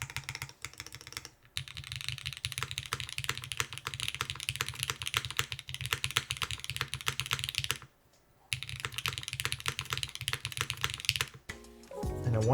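Haven60 mechanical keyboard with a force break mod being typed on steadily, a dense stream of close, clacky keystrokes with a brief pause midway and another near the end.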